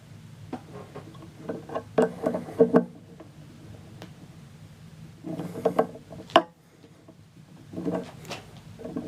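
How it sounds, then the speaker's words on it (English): A ratchet or small wrench tightens bolts during a standard SRB 3-link axle install. Short bursts of rapid mechanical clicking are separated by quiet pauses, close and moderately loud. "I use a little wrench on here, a ratchet works good too."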